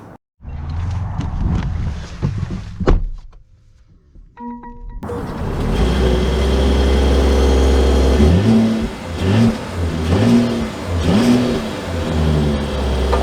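A 2023 Mercedes GLS 450 SUV sets off and accelerates. A brief chime sounds first, then a loud, steady engine hum and road noise build as the speed climbs.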